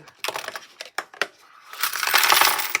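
Coins clinking and rattling in a handful of sharp metallic hits, followed by a rushing pour of change jingling together, close up.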